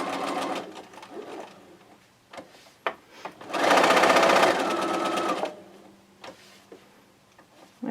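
Sewing machine stitching raw-edge quilt squares with the needle-down setting, short bursts of stitching and one longer steady run, with quieter clicks and handling sounds between.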